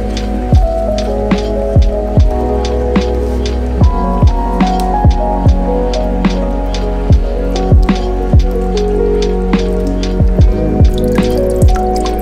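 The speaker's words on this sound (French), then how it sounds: "vous arrosez tout le substrat jusqu'à ce que l'eau coule par les trous de drainage" Water from watering an indoor bonsai dripping out of the pot's drainage holes, loud and close, with steady separate drops splashing one after another against a low continuous background hum.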